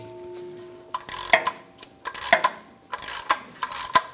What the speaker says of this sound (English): I'm going to use a 19mm socket to break this free